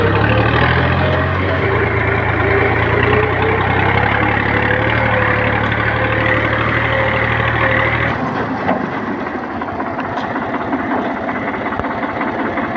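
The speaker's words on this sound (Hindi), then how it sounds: "तो अपन ट्रैक्टर को लेके आ चुके हैं" A tractor engine idles loudly and steadily nearby, its low rumble continuous throughout before the tone shifts and settles into a rougher idle partway through.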